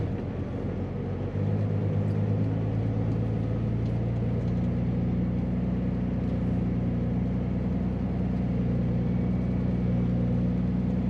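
Dump truck idling and then pulling in with a steady low diesel rumble on muddy ground, loud and continuous throughout, with no talk.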